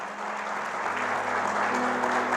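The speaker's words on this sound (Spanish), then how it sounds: "Vamos, aplauda a Cristo." A church congregation applauding steadily, a dense, sustained wash of clapping at even loudness with a low hum beneath, no voices standing out.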